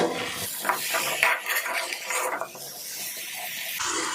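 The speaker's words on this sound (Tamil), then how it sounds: "இப்போ நம்ம சேர்த்துக்கிட்ட அந்த காய்கறிகளை மசாலா கூட நல்லா கலந்து விட்டுருவோம்" Vegetables such as brinjal are stirred into masala in a pot for a dried fish curry: scraping and clinking of a spoon against metal, with faint sizzling between strokes, close and irregular.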